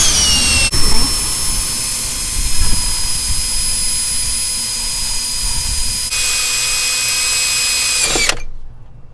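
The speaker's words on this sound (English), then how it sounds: "grab your drill, grab your bit right there, and start drilling away" A loud, high power-drill whine runs nearly continuously as a bit bores holes into the EGR ports of a 1990–93 Honda Accord with an F22 engine. The drill shifts pitch partway through, then winds down and stops abruptly.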